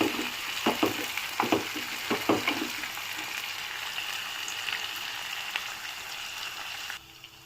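Chopped tomato and green chili sizzle in a hot pan with a soft steady hiss, broken early on by several sharp stirring clinks before the frying quiets down and cuts off near the end.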